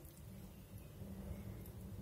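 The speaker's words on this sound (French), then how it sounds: "vous allez entendre l'orage" A thunderstorm rumbles outside a kitchen, a low, steady wash of rain and distant thunder, faint and continuous with no talking.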